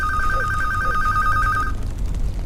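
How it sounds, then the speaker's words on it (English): A mobile phone rings during an online game session, a steady electronic two-tone trill that repeats evenly for under two seconds and then cuts off, heard close over low background hum. "That is my phone ringing."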